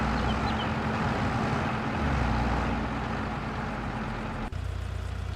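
A tractor engine in the Farming Simulator 22 video game strains under a heavy load, a steady, loud, low droning rumble that runs unbroken, with a brief dropout near the end.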